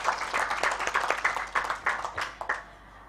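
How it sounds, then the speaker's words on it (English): A modest round of clapping for Dr. Paulina at a women's investment breakfast, moderately close with uneven, thinning bursts that trail off toward the end. "I think we give another round of applause"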